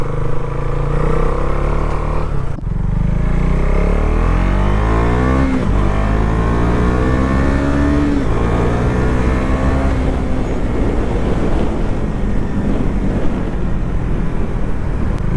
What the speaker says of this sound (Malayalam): RPM കൂടുന്തോറും നല്ലൊരു സ്വീറ്റ് സൗണ്ടിങ് എക്സോസ്റ്റാണ്